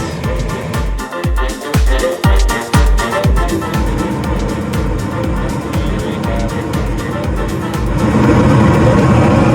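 A home gas furnace whose igniter has just been replaced: after a run of sharp clicks and ticks, the burner lights into a steady, louder broadband whoosh that continues to the end.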